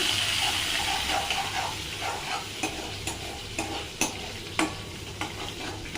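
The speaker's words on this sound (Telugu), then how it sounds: "ఇప్పుడు ఇందులో ఆవాలు, జీలకర్ర, కరివేపాకు వేసుకుంటున్నాం చూడండి" Mustard seeds, cumin and curry leaves hit hot oil with a steady broadband sizzle and crackle, punctuated by sharp popping bursts and spatters toward the end, close and fairly loud with no talking.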